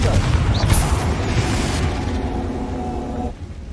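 A Confringo fire spell explodes in Hogwarts Legacy, giving a loud, booming burst followed by a crackling, rumbling tail that fades after a few seconds.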